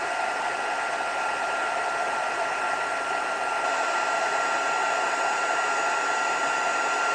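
A heat tool blows a continuous, even, whirring hiss close by while drying wet ink, with no other sounds.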